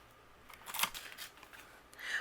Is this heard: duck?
no